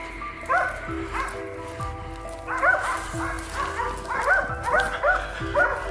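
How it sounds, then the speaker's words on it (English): Hunting dogs bay during a wild boar hunt in the woods, with repeated yelping barks in overlapping bursts at moderate distance, growing more insistent toward the end. "the baying of the hunting dogs echoed through the trees"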